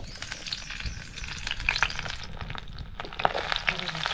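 Green chilies fry in a little oil in a wok for a fine fenugreek leaf bhaji. A steady, close sizzle carries scattered sharp crackles and pops, with no voices.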